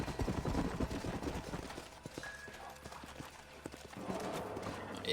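Horses' hooves in the video game Red Dead Redemption, a rhythmic clip-clop of several horses moving at a walk, fairly close and steady over background noise.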